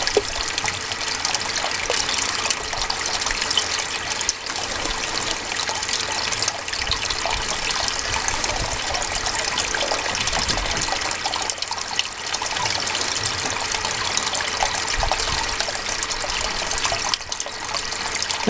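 Water runs steadily through a gold sluice fitted with a magnetic trap while wet concentrates are cleaned up. The flow is a constant, close, full rushing wash with no pauses and no voices.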